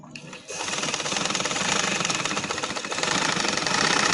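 A sewing machine stitches invisible lace onto the slit and hem of a kameez, starting after a brief pause and then running as a loud, continuous rapid buzz.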